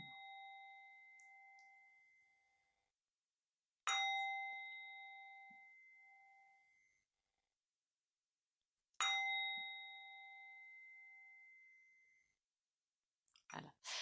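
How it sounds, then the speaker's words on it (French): A Tibetan singing bowl is struck three times in a quiet room, and each clear ringing tone slowly fades to silence before the next strike. A couple of faint clicks follow at the end. "les 3 petits coups de boule tibétain"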